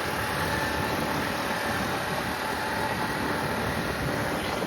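Scooter engine and wind noise while riding, a continuous loud steady roar and hum with no breaks, heard close up.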